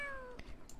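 A cat meows in Star Stable Online, one short, clear, falling meow close up, followed by faint soft clicks.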